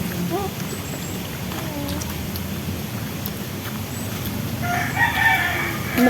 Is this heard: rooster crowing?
yes